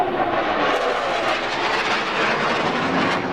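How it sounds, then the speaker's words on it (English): A jet aircraft passes overhead with a loud, broad, steady roar that fills the whole clip, with no talking. "Take a second for a jet to go by."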